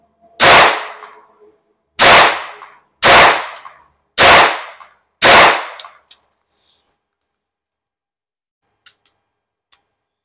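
A Beretta 950BS Minx pistol firing Aguila Super Extra .22 Short rounds, five sharp loud cracks about a second apart with brief ringing tails, then silence and a few faint metallic clicks.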